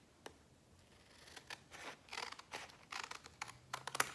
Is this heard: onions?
no